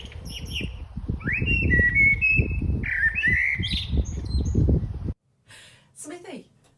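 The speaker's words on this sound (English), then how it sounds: "Coggeshall residents are regularly being treated to some 80s classic pop in their very own gardens, courtesy of a local blackbird." A blackbird sings loud, fluting whistled phrases with chirps over a low rumble of background noise, then briefly falls quiet before another short call, in a garden in Coggeshall, Essex.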